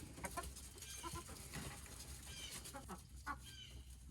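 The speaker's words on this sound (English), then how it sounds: "The little chickens there, I gotta throw them some over there." Young farmyard chickens give soft, scattered clucks at a distance on a mild February day, faint against a steady, noisy outdoor background.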